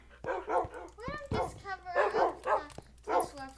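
Dogs in the Minecraft video game bark, yip and whimper in quick repeated bursts, fairly loud and close, with brief pitched whines between the barks.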